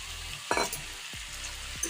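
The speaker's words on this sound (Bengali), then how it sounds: "ভাজা বাদামটা দিয়ে ভালো করে নেড়ে চেড়ে নিচ্ছি।" A spatula scrapes and stirs through peanuts and vegetables frying in a pan, three distinct scraping strokes over a steady, crackling sizzle.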